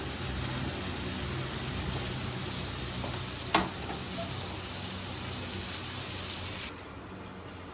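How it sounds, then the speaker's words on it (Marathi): Pressed surmai (kingfish) pieces fry in hot oil, a loud, steady, close sizzle that crackles throughout, then drops suddenly near the end, with no voices. "आता ही तेल छान तापलेलं आहे, त्याच्यात सोडायची."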